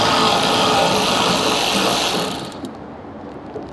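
A ratchet rapidly turns out 10mm bolts near the fuel sending unit on a Porsche 914. Dense, loud whirring clicks run for about two seconds, then drop away to a quieter background.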